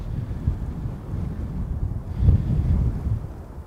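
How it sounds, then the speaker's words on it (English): Strong gusts batter the microphone beside an airport runway, a steady low roaring rumble that swells in a heavier gust partway through, with no talking. "The wind blew the laptop lid closed, so it gives you an indication of how strong it is."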